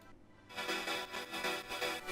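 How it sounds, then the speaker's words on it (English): A wavetable synthesizer tone with a shifting, textured timbre pulses in repeated swells, its brightness changing from beat to beat, heard alone without voices. "this wavetable sounds like this by itself"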